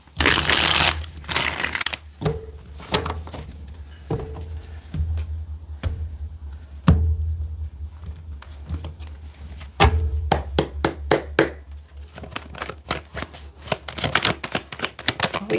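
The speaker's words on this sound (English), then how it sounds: "Let me get one more good shuffle here." Tarot cards being shuffled by hand in a series of crisp riffling bursts and sharp taps, near and fairly loud, with short pauses between the shuffles.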